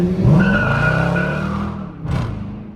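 A Dodge Charger R/T's tires squeal and skid under a hard pull, a loud rising screech over heavy engine roar that eases off, then a brief second chirp near the end.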